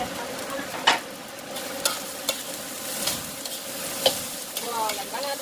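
Corn rice is stir-fried with petai beans and chives in a pan. A steady sizzle runs under repeated clinks and scrapes of the spatula, roughly one per second, close and fairly loud. No one speaks.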